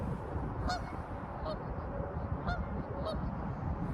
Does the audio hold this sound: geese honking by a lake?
yes